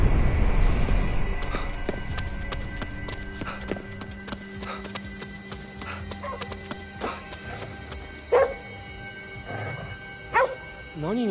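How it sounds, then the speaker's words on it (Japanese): A dog barks in short sharp bursts in the video game Ghostwire: Tokyo, heard over a steady ambient game soundscape with tonal hums, with two distinct louder barks near the end. "何に向かって吠えてるんだ。"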